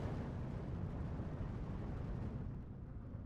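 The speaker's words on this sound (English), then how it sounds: "artillery is starting to pin down the T-34" Artillery fire in a World War II strategy game, a deep, continuous rumbling roar of distant shelling that holds steady for a few seconds, alone without talk.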